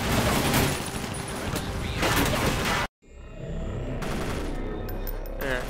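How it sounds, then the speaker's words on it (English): A pistol fires four-round bursts in the video game TimeShift, sharp clustered shots amid loud battle noise that cuts out briefly and resumes, with someone talking over parts of it. "Pistol's 4-round burst isn't really meant for that sort of range"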